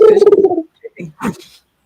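A pet pigeon coos close and loud indoors: one long rolling coo followed by a few shorter soft coos, with no talking.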